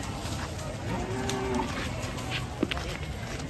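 Cattle in an agitated, unruly state low out with one drawn, moaning moo in the midst of a steady outdoor rumble, followed by a brief sharp knock.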